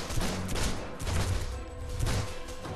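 Rapid bursts of automatic gunfire from an 8v8 arena PvP match in the video game DC Universe Online, repeated volleys in quick succession, loud and close, with no talk.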